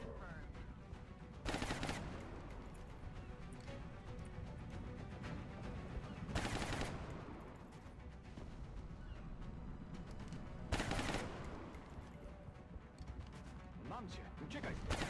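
Gunfire in the XCOM Long War video game, with several sharp, loud bursts of automatic shots spaced a few seconds apart over a busy low rumble of game sound.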